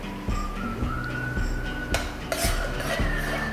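Tomato sauce with bay leaf, sugar, salt and pepper being stirred in a pan, with repeated soft scraping and clinking of a utensil against the pan over a steady low kitchen hum.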